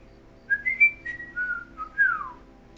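A companion character in Skyrim Special Edition whistles a short, clear melodic phrase of several rising and falling notes, alone and close.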